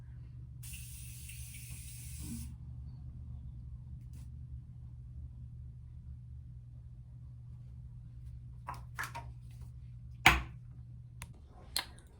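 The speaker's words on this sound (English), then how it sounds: "And now I'm using my Morphe Continuous Setting Mist." A Morphe Continuous Setting Mist gives one long, continuous hissing spray of about two seconds near the start, up close in a quiet room, followed by a few faint taps and clicks.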